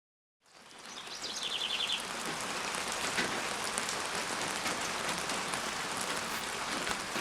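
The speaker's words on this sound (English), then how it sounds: "obviously we're in the middle of a pretty good little rain shower." Steady rain shower falling outside a workshop, a dense continuous hiss of drops on surfaces that starts abruptly and holds loud and even throughout, with a faint bird chirp early on.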